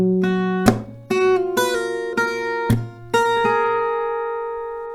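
Acoustic guitar plays the C part of a song: a handful of distinct plucked notes and chords over sustained bass strings, each attack ringing out clearly, the last chord left to decay alone.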